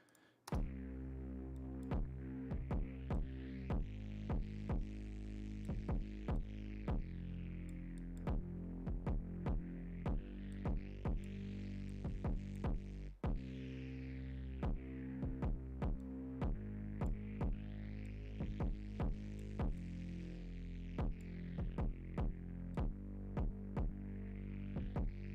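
Kick drum under sidechain compression in a beat, thumping steadily and evenly, each hit ducking a sustained synth pad that recovers quickly, giving a smooth throbbing pulse with no vocals.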